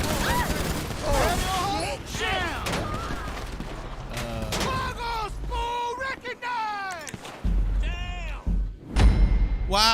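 Sustained gunfire in Grand Theft Auto Online, bursts of shots and thuds mixed with game sounds and someone talking over the action.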